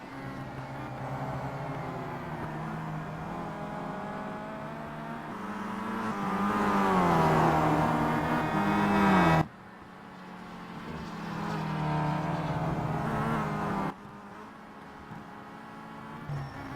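Touring cars race in a WTCC sim racing game at Mid-Ohio Sports Car Course, with a BMW among them: loud, continuous engine drone that climbs in pitch as the cars accelerate, then cuts abruptly twice to fresh engine passages.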